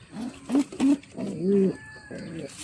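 A pigeon cooing inside its cage, several low throaty coos close by in a short sequence, with faint background noise.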